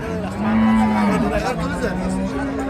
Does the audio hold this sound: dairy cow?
yes